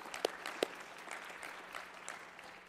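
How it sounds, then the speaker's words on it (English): Applause in the Hawaii Senate chamber, a steady spread of clapping from a room of people, fairly faint and distant, with a couple of sharper claps standing out near the start. "Let's give them all another round of applause"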